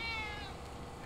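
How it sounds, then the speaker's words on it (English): A cat in Grand Theft Auto V gives a single short, clear meow, close and fairly loud, with no talk over it. "There's a cat."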